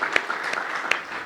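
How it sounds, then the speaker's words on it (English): Conference audience at a debt managers' network meeting applauding, scattered claps heard from a distance with a few sharper strikes standing out. "Please, a very warm round of applause."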